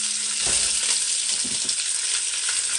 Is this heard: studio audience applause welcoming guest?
no